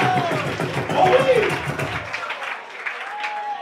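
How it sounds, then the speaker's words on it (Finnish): Festival audience applause in a dense burst of clapping, with voices over it, fading out after about two seconds into quieter crowd noise. "Annetaanko aplodit Jalolle edelle?"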